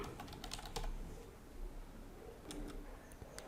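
Quiet, close typing on a desktop computer keyboard, a short run of light clicking keystrokes in loose bursts against a faint background.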